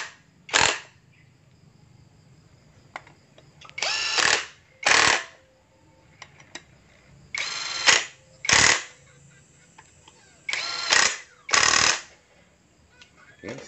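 Power tool tightening bolts on a diesel engine block fires in about nine sharp, loud impact-wrench-like bursts, each roughly half a second long, separated by quiet gaps.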